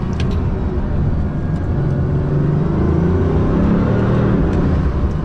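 A Bugatti Veyron accelerates along an open road, delivering a deep, continuous engine drone with rising, layered tones amid steady road and wind noise from inside the cabin, with no talking.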